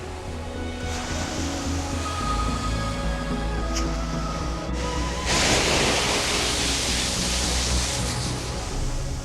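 Ocean surf at a beach in Galle, Sri Lanka, rolls in as a loud, continuous roar of breaking waves that swells into a heavier surge partway through.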